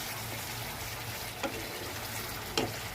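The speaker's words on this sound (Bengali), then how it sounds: "ভালো করে কষে নিতে হবে।" Rui fish curry frying in a pan, a low steady sizzle with two sharp scraping stirs of a spatula, faint and close.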